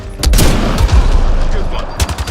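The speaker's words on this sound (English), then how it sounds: "Watch the grenade!" A grenade blast in the sci-fi shooter Mass Effect: Andromeda, a loud low boom with gunfire cracks around it in a chaotic firefight, dense and sustained, with brief voices calling out under the noise.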